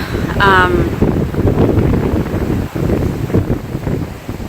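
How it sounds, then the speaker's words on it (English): Loud, steady wind buffeting the microphone in a low rumbling roar, with a short voice-like tone early on. "It's kind of windy today, so I hope that doesn't interfere too much with the noise."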